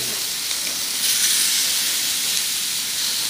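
Marinated venison chops sizzle steadily on a gas grill, a continuous close hiss with a brief swell partway through and no voices.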